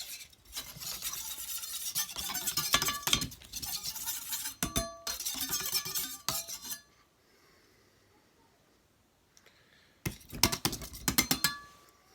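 A knife blade stroked across a Naniwa 600 grit Japanese waterstone, producing quiet, gritty scraping in rhythmic runs. The runs break off for a few seconds of near silence, then resume in a final flurry of strokes.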